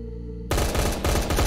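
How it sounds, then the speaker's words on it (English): Gunfire in a Roblox SCP roleplay game breaks out after a short quiet stretch: loud, dense bursts of rapid automatic shots repeating for about a second, close and unbroken by talk. "Why are they shooting at him?"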